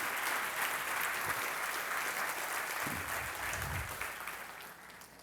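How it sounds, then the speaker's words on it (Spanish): Church congregation applauding together during a worship service, a sustained dense clapping that stays steady before tapering slightly at the end, with faint low voices beneath. "aplaude su gloria"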